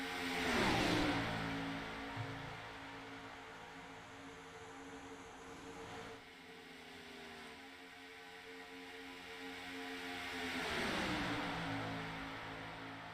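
Stock cars in an Xfinity Series sim racing game roar past in a steady engine drone, with a loud pass-by swelling at the start, a quieter stretch mid-way and another car sweeping past near the end.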